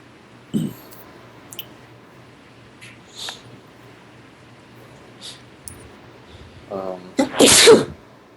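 A person sneezes loudly near the end, after a faint sound early on, with soft snorts and breaths in a quiet meeting room.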